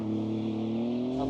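A 2025 Maserati GranTurismo engine revs hard at launch, a steady loud droning roar with a rising pitch, close and continuous throughout.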